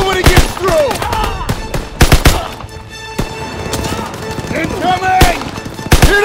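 Machine gun fire in Call of Duty WWII during a D-Day battle, loud close bursts of rapid shots in irregular clusters, with whizzing effects and shouting voices between the volleys.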